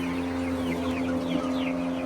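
Cochin chickens cluck softly in a coop, scattered short calls over a steady low mechanical hum that runs throughout.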